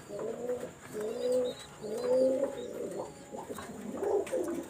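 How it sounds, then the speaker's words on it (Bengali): A male pigeon coos close up in a rhythmic series of low, rolling calls, each swelling and fading, with faint chirps and soft background noise between them. "এটা মেল কবুতর কিন্তু।"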